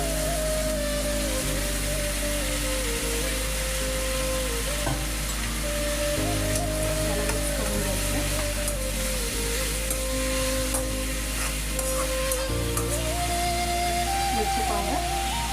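Washed eggplant going into softened onion in a pan for baingan sabzi, giving a loud continuous sizzle and crackle with stirring, over a steady hum, with no clear speech.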